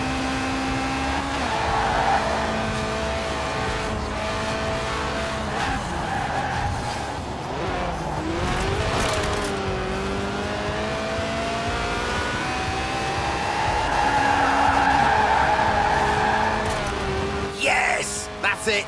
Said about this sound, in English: The trick with drifting is to not actually spin, but to almost spin for as long as possible.